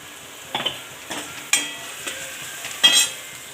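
A spoon scrapes and stirs bitter gourd and peanut curry with spices in a pan, with several distinct scraping strokes spaced over a faint, quiet sizzle.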